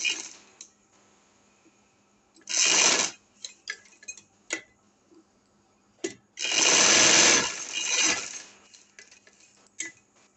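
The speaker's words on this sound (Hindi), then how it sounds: "ये हमने सिलाई लगा लिया" A sewing machine stitches a shirt collar in two loud, close bursts, one short and one longer, separated by small clicks and handling taps.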